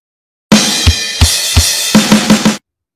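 Drum kit beat played alone at a steady standard tempo, with kick and snare hits alternating and crash cymbal washes marking accents, several close, loud strokes over about two seconds.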